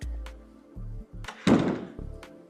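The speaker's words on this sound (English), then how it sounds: "look at how massive this door is" A massive door in a luxury mansion swings shut, giving a few soft low thumps and then a heavy, resonant closing thud that fades out, close to the listener.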